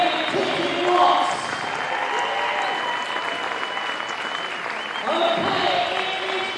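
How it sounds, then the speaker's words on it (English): Crowd applauds at an NBL Division One basketball game between the Reading Rockets and Nottingham Hoods in the UK, with steady clapping and cheering in an indoor arena, rising briefly near the start and again toward the end. "big round of applause for Tintin Watts"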